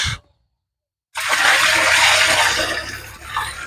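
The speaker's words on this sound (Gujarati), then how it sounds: "એમાં ખાટી છાશ તો એકચ્યુઅલી નાખેલી જ હતી પણ થોડી અત્યારે વધારે રેડી છે" Sour cow buttermilk pours in a steady, loud liquid rush into a farm tank holding about 180 litres of water, starting abruptly after a second of silence and splashing continuously to the end.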